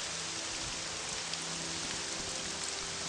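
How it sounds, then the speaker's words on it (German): Steady rain pours in the video game Morrowind, a dense, even hiss of drops hitting the ground that continues unbroken with no voices over it. "Oh, der Regen lässt nach."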